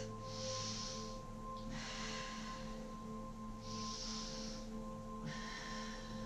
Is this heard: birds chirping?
no